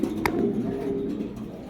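Pigeons coo nearby in a low, soft, continuous warble, with a brief click near the start.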